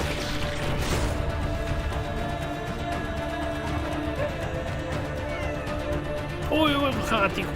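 A cat meows in a video game trailer, a short wavering meow near the end over a busy, loud mix of music and effects, with a person talking throughout.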